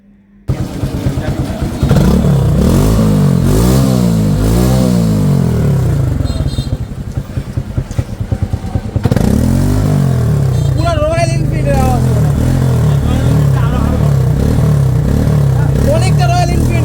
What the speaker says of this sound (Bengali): বাইকটার সাউন্ড শুনলে মনে হয় রয়্যাল এনফিল্ডের সাউন্ড বাজতেছে।